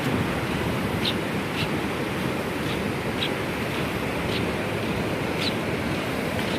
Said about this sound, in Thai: ขณะนี้ คลื่นลมแรงนะครับ ไม่เหมาะที่เราจะไปเล่นน้ำกัน